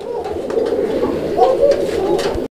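Pigeons coo close by in a steady, continuous low warble, layered calls overlapping without pause.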